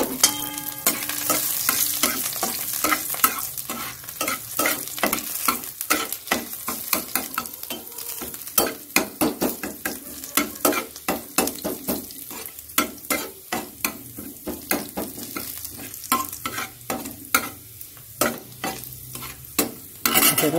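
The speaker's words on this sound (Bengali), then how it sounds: "এবার একটু রসুন দিয়ে দিলাম" Garlic sizzling in hot oil in a pan while being stirred, a steady loud frying hiss punctuated by frequent sharp scrapes of the spoon, with no talking.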